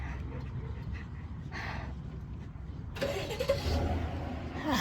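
A car engine cranks and fires up a short distance away, catching abruptly and settling into a steady idle rumble, heard outdoors against faint background noise.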